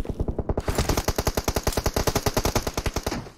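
Rapid automatic gunfire from a shooting video game, a long sustained burst of evenly spaced shots at a steady fast rhythm, loud and close with no talking.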